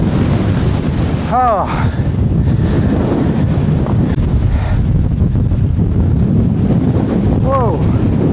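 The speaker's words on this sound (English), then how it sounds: "Definitely the windiest I've known it at the top of any hill" Strong wind during Storm Floris roars continuously across a hilltop, loud and buffeting the microphone throughout, with a voice exclaiming briefly under the gusts.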